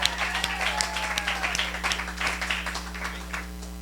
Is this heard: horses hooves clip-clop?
no